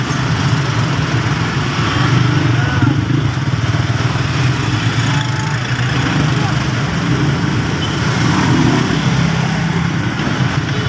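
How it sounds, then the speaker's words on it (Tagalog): Steady, dense engine drone of many motorcycles in heavy street traffic along Tullahan, Valenzuela, a continuous close rumble of idling and revving bikes with people talking over it throughout. "talubungan ng mga motor dyan"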